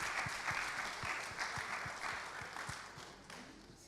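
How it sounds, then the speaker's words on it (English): Audience applause at a candidates forum in Springfield, Massachusetts, a soft, distant-sounding patter of many hands that carries steadily for several seconds without talk over it. "So let's give them a round of applause, y'all."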